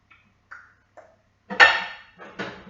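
A few light clinks and a louder metallic clatter as a non-stick frying pan is picked up and set down on a hard surface, close by with quiet gaps between.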